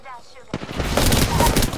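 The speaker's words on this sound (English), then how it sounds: "Ooh, minigun." Rapid, sustained minigun fire in the video game Apex Legends breaks in after a brief quiet lead-in, then roars on continuously and loud, with a dense rattle of rounds to the end.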